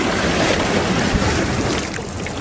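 Strong river current on the Teles Pires river in the Amazon rushes continuously as dense, loud broadband water noise with some wind buffeting, steady throughout with no voices.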